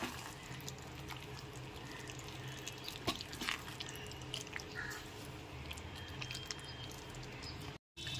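Pieces of mutton stirred in a pan over a low-to-medium gas flame, giving soft, steady squishing and wet scraping with faint sizzling, close and quiet throughout, with no talking.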